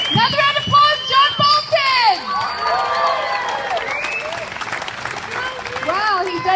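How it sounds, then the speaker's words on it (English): Outdoor crowd applause at a street rally in Sydney, mixed clapping with cheers, whistles and raised voices including children, loud and lively, with people talking through it. "Another round of applause, John"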